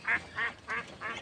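Two-month-old ducklings quacking: four quick, close, nasal quacks in an even rhythm, with nothing else heard.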